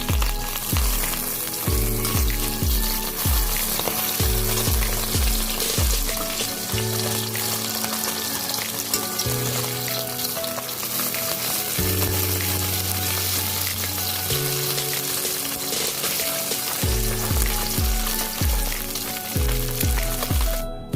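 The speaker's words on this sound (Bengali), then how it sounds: "এবার এক পিঠ ভাজা হয়ে গেছে," Bata fish fry in oil in a pan, giving a continuous hissing sizzle that runs beneath loud rhythmic background music.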